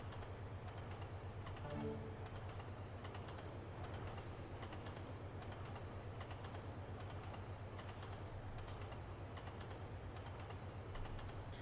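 Electric locomotive in Trainz Simulator 2 on a Razorback line under catenary, a steady low rumble with rhythmic clickety-clack of wheels over rail joints, running continuously and alone with no talk.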